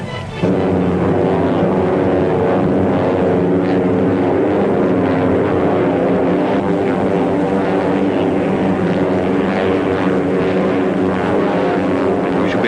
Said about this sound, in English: We should be landing shortly, Baron.